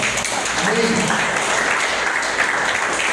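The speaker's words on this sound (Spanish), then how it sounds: "Denle un aplauso otra vez a él." A church congregation applauds during a Spanish-language sermon, steady clapping filling the room at moderate loudness while a voice carries over it.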